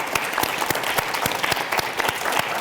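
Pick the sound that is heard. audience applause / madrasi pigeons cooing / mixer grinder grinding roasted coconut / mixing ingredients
audience applause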